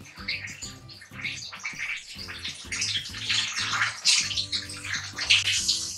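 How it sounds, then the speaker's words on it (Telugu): Chicken pieces (country chicken) are washed by hand in a vessel of water at home, giving repeated splashing and sloshing in an irregular rhythm, close and clear, with a low background hum. "ఫస్ట్ అయితే దీన్ని నీట్ గా వాటర్ లో వేసి కడుక్కోవాలి."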